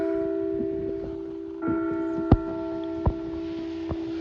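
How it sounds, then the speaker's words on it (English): Westminster chimes ring from church bells at noon, tones hanging in the air, with a few sharp strikes adding new notes over a sustained, resonant hum. "The sirens and Westminster chimes."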